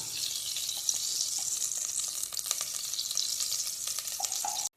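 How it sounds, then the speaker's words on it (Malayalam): Ghee in a well-heated pan, the start of a chole masala, sizzles in a dense, even hiss with faint crackles and small pops throughout. "നമുക്ക് ആദ്യം ഒരു ടേബിൾ സ്പൂൺ നെയ്യ് ഒഴിച്ചു കൊടുക്കാം"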